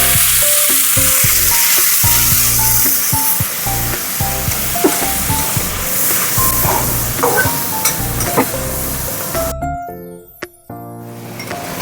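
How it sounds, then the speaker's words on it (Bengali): Whole spices for a tempering fry in hot oil in a pan for a spicy potato dum, then a prepared spice paste goes in. The sizzle is loud and close, with repeated metallic clinks and scrapes of stirring, and a sudden sharp change near the end. "ফোড়নটা ভাজা হয়ে গেছে, আবার এই যে মশলাটা করে রেখেছি মশলাটা দিয়ে দিই"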